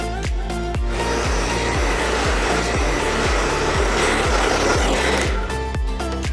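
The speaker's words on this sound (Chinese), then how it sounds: "翻过来用吹风机对屏幕加热。" Hair dryer blowing hot air onto a Redmi 10X Pro phone screen during a teardown, a loud, constant whoosh with a faint, regular ticking underneath.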